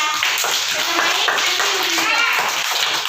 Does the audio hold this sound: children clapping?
yes